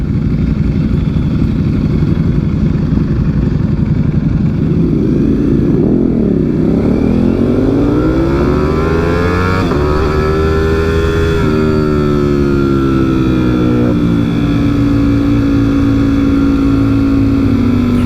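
A Ducati Streetfighter V4 S motorcycle engine on a group ride, loud and close, droning steadily and then climbing and falling in pitch as it revs through gears, with no voices over it.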